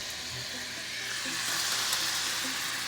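Butter and olive oil sizzling in a hot pan for Philly cheesesteak sliders: a steady, close, hissing fry that holds evenly throughout with no talk over it.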